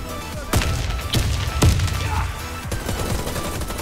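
Explosive gunfire bursts in the Warface shooter game, with sharp broadband cracks near 0.5, 1.1 and 1.6 seconds over a dense, rumbling battle bed, then softer scattered shots toward the end.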